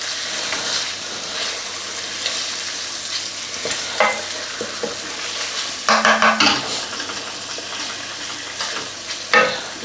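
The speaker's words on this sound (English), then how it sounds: "So let that turmeric just wake up in that hot oil." Turmeric sizzles in hot oil in a pot over a gas flame, a continuous close fry punctuated by several sharp clinks and scrapes of a utensil against the pan.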